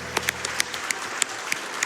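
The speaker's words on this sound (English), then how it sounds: "Clap." Sparse, uneven clapping from a small audience at a speedrunning event, a handful of sharp claps spread irregularly over a couple of seconds.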